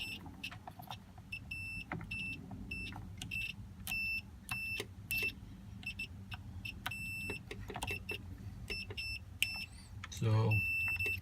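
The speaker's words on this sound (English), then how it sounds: "We're at continuity. Got that little annoying beeper." Multimeter set to continuity on a 2002 Toyota Sequoia clock spring repair, giving repeated short high-pitched beeps in irregular bursts amid clicks and handling noise, while a person talks throughout.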